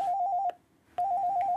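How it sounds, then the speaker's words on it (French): A telephone rings with a steady electronic trill in two bursts split by a short pause, loud and close, with no talk over it. "le téléphone sonne sans arrêt"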